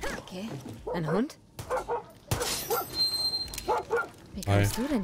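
A dog in the video game Far Cry 6 barks, yips and whimpers in several short bursts, fairly close and loud, with someone talking between them.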